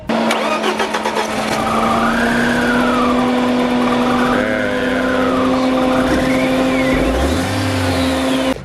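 A BMW 318ti with the four-cylinder M42 engine, suffering a warm-start misfire, cranks and settles into a steady close-up idle with a whining tone rising and falling above the drone, no one talking.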